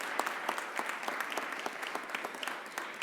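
A round of applause at a mayor's press conference, honoring a city councilmember, with a modest crowd clapping steadily in a room, individual claps distinct and moderately close.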